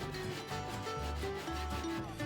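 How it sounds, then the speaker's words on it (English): Sandpaper rubs back and forth over cork roadbed on a model railroad, giving a close, steady scratchy scraping in quick repeated strokes with no talk. "starting with sanding down the cork roadbed"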